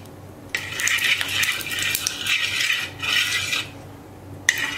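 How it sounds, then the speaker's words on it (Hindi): Oil pours onto a metal tawa griddle for frying arbi pakoras, giving a steady close hiss and sizzle with brief pauses and a sharp metallic tap near the end, with no talk. "अब हम तवे पे तेल डालेंगे।"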